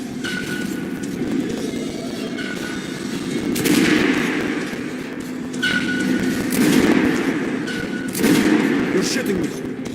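Squad gunfire in Metro: Last Light Redux, a series of sharp shot bursts spaced a couple of seconds apart over a steady low rumble, with metallic clinks and speech mixed in.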